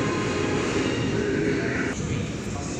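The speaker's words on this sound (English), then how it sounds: "MacArthur via the airport service now on approach to platform number 6." A train approaching a platform at Wynyard station, a steady loud rumble of rail cars with station ambience throughout.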